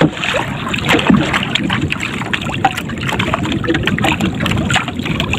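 Water sloshes and splashes in steady, repeated paddle strokes as a boat is paddled against a strong current, with strong wind buffeting the microphone throughout; no voices.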